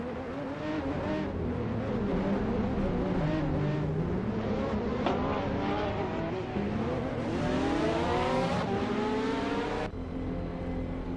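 AI-driven GTS race cars at Spa-Francorchamps in a racing video game roar continuously, engines revving up and down through gear changes as several cars scream past together.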